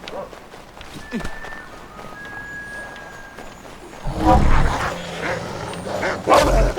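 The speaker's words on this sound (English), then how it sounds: "Poor dog. It's a wolf." A wolf in the Assassin's Creed 3 video game barks and yelps, faint at first and then louder, sharper bursts near the end over outdoor game ambience.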